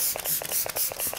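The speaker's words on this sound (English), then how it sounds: "let's go ahead and spray this all over." An e.l.f. coconut hydrating facial mist is sprayed over the face in a quick series of about six short, close, airy pumps, each a soft hissing burst, with no talking.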